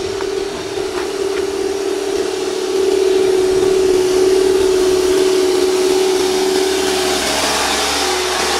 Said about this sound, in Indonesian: Suara mesin enggak kuat.